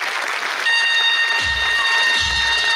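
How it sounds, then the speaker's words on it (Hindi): Applause from an audience at a rising day function swells in steady and fairly close, a dense patter of clapping with a few low thumps, and no one speaks over it. "पूरे सम्मान से, पूरे दिल से तालियां हो जाए सबके लिए"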